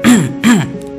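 Two firm, deliberate throat clearings, close and loud, each a short guttural rasp followed by a brief pause, with no talking.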